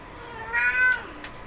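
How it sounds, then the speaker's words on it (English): A house cat meows once, a drawn-out, moderately close call, followed by a faint shorter chirp, over a quiet indoor background. "And my cat says hi."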